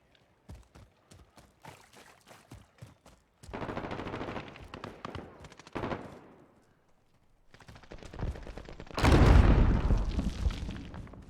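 Machine gun fire from the video game Modern Warfare, moving from short spaced bursts to long rattling sustained volleys with a heavy boom near the end, loud and close.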